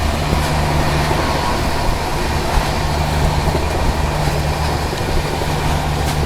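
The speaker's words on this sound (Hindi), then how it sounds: "अभी टैंकर वाली मालगाड़ी के साथ चल रहा है यहाँ पर पैरेलल, बढ़िया स्पीड में" A Shatabdi Express running at good speed on the Kanpur route alongside a tanker freight train: a loud, dense rumble of wheels and rushing air, continuous throughout with a faint steady hum, heard from inside the train.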